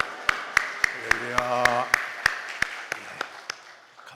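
A church congregation claps in applause for the pastor, a run of sharp, evenly spaced claps under a voice leading a call, with a sustained sung or intoned phrase in the middle.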